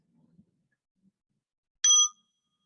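A single meditation bell is struck once during an online sangha gathering, ringing clear and bright after near-silence, then fading quickly into quiet.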